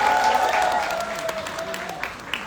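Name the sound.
applause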